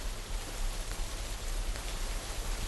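Rain falls steadily at night, a soft dense hiss with no distinct drops standing out, even and unbroken throughout.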